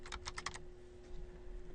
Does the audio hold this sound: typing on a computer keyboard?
yes